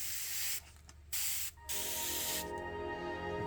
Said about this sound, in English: I'm going to give a quick spray.